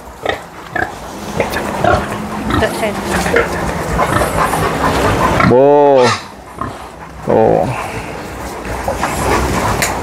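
Pigs climb onto a truck at an organic pig farm in Indonesia, with one loud, sharp squeal standing out amid shuffling, background farm noise and someone talking.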